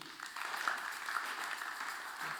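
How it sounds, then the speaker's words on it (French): A church congregation claps and applauds for Jesus during a worship service, a steady dense wash of clapping that holds evenly for a couple of seconds without a break. "Acclamons Jésus"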